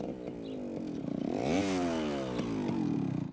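A motorcycle ridden fast roars close by, its engine pitch climbing sharply, peaking, then sliding down again as it speeds past within a few seconds.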